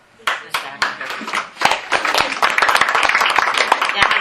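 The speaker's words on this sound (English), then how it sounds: "We applaud for Ashley." A small group at a board meeting claps to welcome Ashley, starting as a few separate claps and building into steady, fairly loud, close applause.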